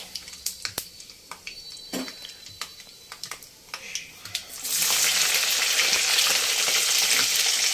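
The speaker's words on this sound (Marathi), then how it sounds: "छान शेंगदाणे खमंग तळून घेऊयात" Peanuts and green chillies fry in oil for poha, first as scattered crackles and pops with scraping stirs, then swelling into a loud, steady sizzle.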